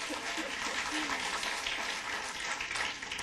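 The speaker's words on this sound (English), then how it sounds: "I don't mind the clapping, and I really appreciate it." Audience applause at a regular city council meeting, a steady wash of clapping throughout, moderately loud in the room.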